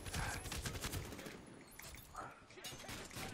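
Gunfire during a multiplayer bomb-defuse round in the Medal of Honor: Warfighter beta, dense rattling bursts of shots and impacts at mid distance, continuous and busy across the moment.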